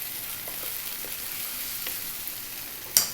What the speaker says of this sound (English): Next up, we're going to drop in our peas, our frozen garden peas.